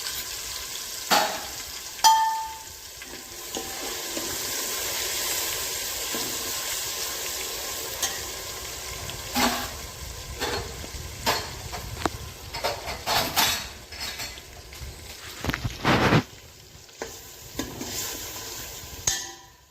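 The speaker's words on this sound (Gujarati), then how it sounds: "અને આ ક્રશ કરેલા ડુંગળી અને ટામેટું આ બધું ઉમેરી અને તેને બરાબર સાંતળી લઈશું." Crushed onion and tomato with garlic-chili paste sautéing in a pan for handvo, a steady sizzle broken by intermittent stirring scrapes and clanks of a spoon, close and moderately loud.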